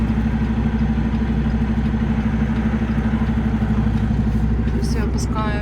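A truck engine idles and rumbles steadily while the rig reverses toward a trailer, a loud constant low drone filling the whole stretch, with brief higher squeaks near the end.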